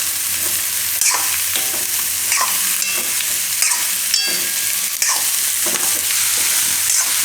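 Bottle gourd pieces stirred into onions frying in hot oil give a steady, close sizzle broken by repeated scraping strokes of a spoon against the pan.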